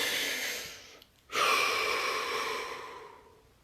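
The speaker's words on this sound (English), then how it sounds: "Deep breath." A single deep breath is drawn in, loud and close, after a brief pause, then let out slowly and steadily as it fades.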